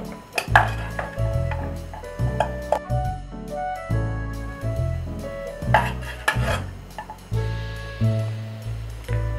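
Lobia chaat being dished out into a serving dish: repeated clinks and scrapes of a spoon against the dish, with irregular knocks and short metallic rings spread across the clip, close and clear.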